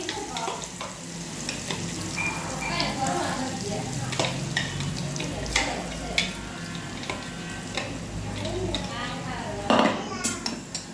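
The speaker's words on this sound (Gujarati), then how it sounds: "તેલમાં રાઈ નાખી દીધી છે ને હવે નાખ્યો છે ડુંગળી" Onion frying in oil with mustard seeds, a loud steady sizzle with metallic pan and utensil clatter and stirring scrapes throughout, close and busy.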